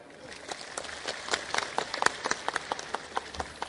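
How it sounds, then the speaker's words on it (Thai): An audience at a large Bhumjaithai party political rally in Korat, Thailand, claps in scattered, uneven bursts, individual hand claps standing out sharply over a low crowd hum at moderate distance. "ถ้าใช่ปรบมือด้วยครับ"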